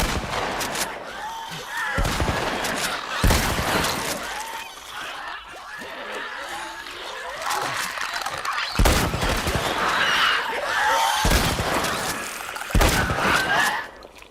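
Gunfire in The Last of Us Part I, with several loud, sharp shots cracking at irregular intervals over a busy game soundscape of movement and ambient noise.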